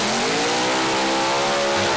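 A Top Methanol Funny Car thunders down the drag strip at the 2013 European Finals, its loud engine wailing in a rising, harmonic scream through a short, unbroken burst.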